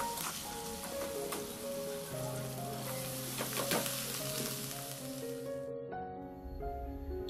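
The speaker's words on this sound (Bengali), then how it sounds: "যে সব রকম সবজি একটু পেঁয়াজের সাথে ভেজে নিচ্ছি হালকা করে" Mixed vegetables, including cabbage, carrot, cauliflower, potato and capsicum, frying lightly with onion in a home kitchen, with a steady sizzling hiss and stirring scrapes that cut off abruptly near the end, leaving a faint hum.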